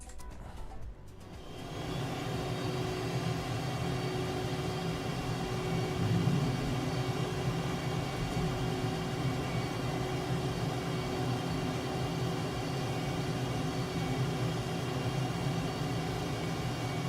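Jet engine roar from a fighter jet in a flight simulator game, a steady broadband rush holding evenly at moderate level after a brief quieter start, with no speech.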